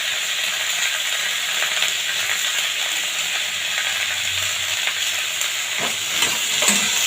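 Chopped carrots and beans fry over medium heat in a pan for a mushroom soup, giving a steady close hiss with a few scraping stirs and clicks toward the end.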